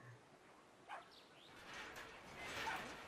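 A dog barks in the video game Brothers: A Tale of Two Sons, with a short yelp followed by a couple of quick whining barks early on, then a rising wash of game ambience, moderately loud, with no talk.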